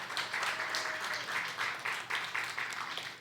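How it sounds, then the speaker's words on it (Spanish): Applause from a church congregation welcoming a visiting woman: a steady, fairly faint patter of many hands clapping in short, uneven swells for about three seconds, with no one speaking over it. "Dale un aplauso, bienvenida."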